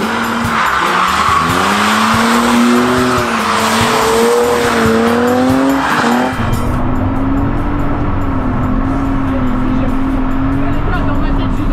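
Car drifting around a race circuit on a track day, part wet and part dry, tires squealing in long wavering howls over engine roar, loud and close, with people talking over it.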